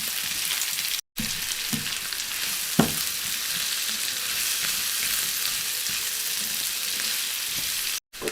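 Ginger, garlic and onion frying in a pan give a steady, close sizzle that runs through the whole stretch, with a few small stirring knocks and one brief sharp clatter.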